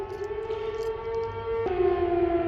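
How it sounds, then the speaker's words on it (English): A township civil defense fire siren wails steadily in the background, a sustained rising tone that shifts pitch partway through and continues alone without talk. "that's the township fire alarm, fire siren"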